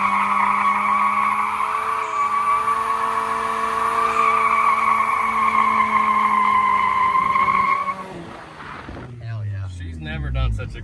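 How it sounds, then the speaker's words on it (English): Long, loud tire squeal with a roaring engine underneath for about eight seconds, then it cuts off and people talk briefly. "Never done such a good burnout."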